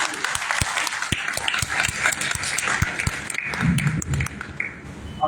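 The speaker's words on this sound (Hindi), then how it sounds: "जोरदार ताली।" A church congregation in Nagpur claps during a Resurrection service, with loud, brisk, uneven claps that build, then thin out.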